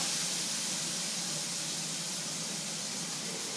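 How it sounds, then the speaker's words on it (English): Steady broadband sizzling hiss of home-cooked food frying in a hot pan under a kitchen extractor fan, continuous and fairly close with no talking. "you can hear that sizzling away"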